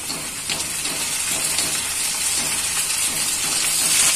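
Ginger garlic paste hitting hot oil in a pan while cooking chicken curry, giving a steady broadband sizzle and hiss that holds close and fairly loud throughout, with no voices.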